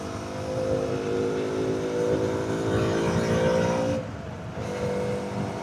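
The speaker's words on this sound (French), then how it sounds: "Le bruit du moteur s'amplifie sur les parois du tunnel." A KTM Duke 200 motorcycle engine hums steadily inside a tunnel at night in Singapore, its tone amplified and echoing off the walls, holding a sustained drone before briefly dipping and resuming.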